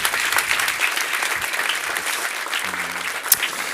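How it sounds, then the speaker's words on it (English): An audience at a technical talk gives warm applause after the presentation, a steady crowd clapping that holds at an even level for the whole stretch. "Give them a warm applause."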